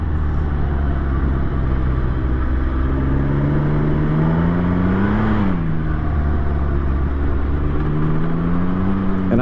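Can-Am Ryker 900 three-wheeler riding on dirt, a loud steady engine drone with a brief rev rise and dip midway, then settling back to a constant cruise.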